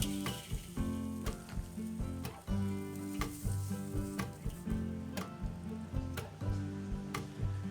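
Tri-tip being seared on a Weber kettle grill, with a soft continuous sizzle under repeated sharp clicks and taps, close but quiet, and no talk.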